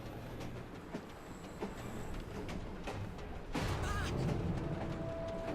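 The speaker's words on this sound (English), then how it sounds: "Can someone please stop this damn train?" Steam-era train rolling along rails in a Victorian London game setting, a continuous rumbling roar with rattling that grows louder midway, with no talk over it.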